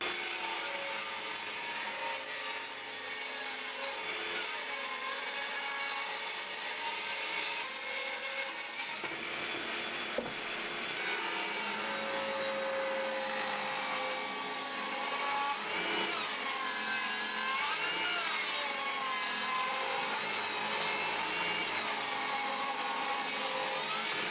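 A table saw rips wood pieces into square strips for an under-sink cabinet, giving a loud, steady whine that runs continuously with slight shifts in pitch as each piece feeds through the blade.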